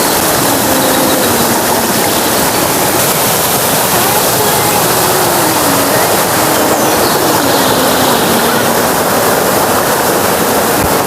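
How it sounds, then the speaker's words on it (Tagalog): Upper part of Tago Falls in Olongapo, a waterfall pouring with a loud, constant broadband rush that fills the whole span without a break, with faint voices barely audible beneath the roar. "ito naman yung Batya-Batyaan. Ito yung upper part ng Tago Falls."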